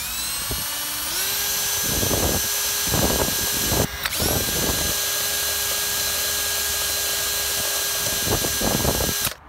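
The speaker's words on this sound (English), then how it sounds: "I gotta drill out these rivets in order to take this one off" An electric drill whines steadily while drilling out rivets on a Mitsubishi Evo X, a loud close high-pitched tone that starts, briefly stops, then runs on with rhythmic grinding bursts as the bit bites through metal.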